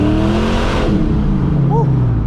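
A Foxbody Mustang roars loudly at high revs on a chassis dyno during a wheel horsepower pull, its engine note sweeping and then easing off, with a voice speaking over it.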